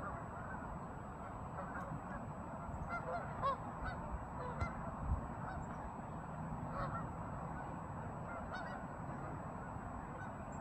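A large flock of wild geese honks faintly in the distance, scattered calls rising over a steady outdoor wash of noise.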